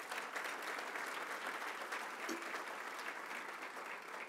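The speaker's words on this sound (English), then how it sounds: "let's give them all a big round of applause." Sustained applause from a large audience at a Long Island Association annual event, an even, continuous wash of clapping heard at a distance and fairly faint.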